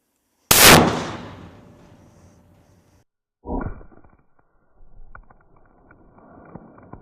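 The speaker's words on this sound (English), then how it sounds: "shot number 3 of our Silvertip 50 cal" A .50 caliber rifle fires a single Silvertip round outdoors. The report is a very loud, sharp blast with a long decaying rumble, then a second, weaker thud a few seconds later and scattered softer knocks.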